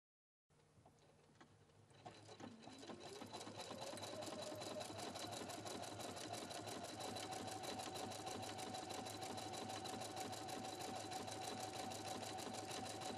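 A Husqvarna Viking Platinum Plus sewing machine stitches a buttonhole, starting with a soft motor whir and building into a steady, fast, closely repeating mechanical hum that runs on, clear and alone.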